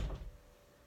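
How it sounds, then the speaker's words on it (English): A door shuts indoors with one soft, muffled thud at the very start, then the room falls to faint, quiet background. "okay, good, my door finally shut"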